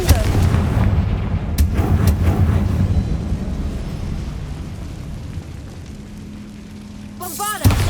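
Confringo fire spell blasts in the game Hogwarts Legacy, deep booming explosions with rumbling bursts, loud at the start and easing off, closing with a sharp whooshing effect.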